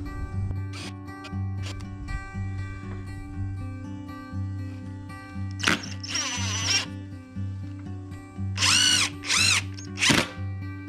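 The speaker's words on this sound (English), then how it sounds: "I'm ready to drill." A power drill whirs steadily with a low motor hum, then several short, sharp bursts as 3-inch screws are driven into wood, close and loud.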